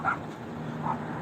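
Dogs barking outdoors near a homeless encampment: two short, faint yips about a second apart, distant and thin over a low background hum.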